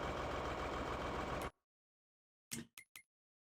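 A tractor engine idles in a farming video game, a steady broadband drone for about a second and a half that cuts off abruptly, followed after a pause by three short mechanical bursts.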